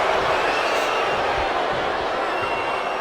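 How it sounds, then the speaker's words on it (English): A community wrestling show crowd boos in a dense, steady roar that fills the room without breaks, with a commentator's voice faintly under it. "Crowd booing decently heavy here."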